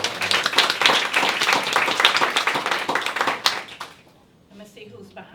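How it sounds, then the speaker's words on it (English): Audience applause at a county health department's 80th anniversary celebration: brisk, close clapping from a crowd that fades out after about four seconds, leaving quiet room sound with faint voices. "Let's give her applause."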